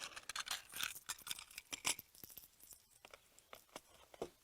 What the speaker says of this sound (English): let's load up the cylinder and give these a couple shots.